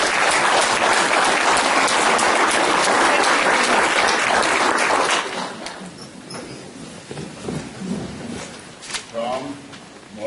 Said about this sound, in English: could you just stand up for a moment and clap?